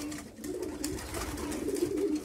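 Racing pigeons coo steadily in a loft the day after a race, a continuous low, throaty murmur from several birds at close range over soft background rustling.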